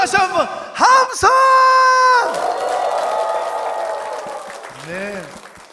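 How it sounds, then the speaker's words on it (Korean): A church congregation at a Sunday worship service cheers and shouts on cue: a few loud, close voices whoop at the start, then a broad, sustained crowd roar that tapers off, with a last rising shout near the end. "다시 한번 함성."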